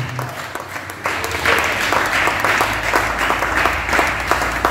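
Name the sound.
audience applauding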